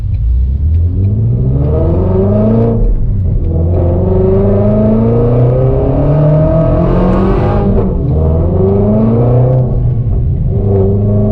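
A car engine fitted with long tube headers and a Whipple tune revs repeatedly, its loud, close exhaust note sweeping up and down through several acceleration pulls with brief lifts between them.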